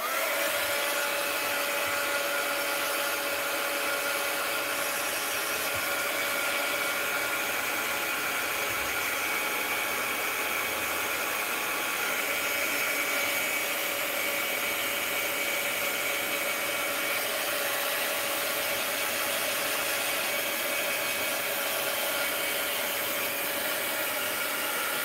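A heat tool or hair dryer blows steadily to dry paint on mixed-media cards, giving a continuous, even whirring rush that stays at the same level for the whole stretch with no talking.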